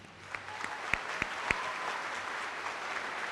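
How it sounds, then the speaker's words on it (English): Steady applause from an audience at a college commencement ceremony, a few sharp individual claps standing out early before settling into even clapping. "Let's give them a round of applause."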